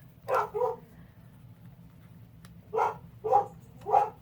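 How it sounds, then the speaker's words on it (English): Dogs in a home bark indoors, two quick woofs followed after a pause by three more evenly spaced barks, moderately close over a low background hum. "Sorry for the dogs."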